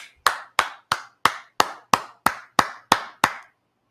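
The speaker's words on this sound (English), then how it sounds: "Clap it up." Ten evenly spaced, sharp, loud claps ring out in a steady rhythm over about three seconds before stopping, sounding like a single close clapper rather than a crowd.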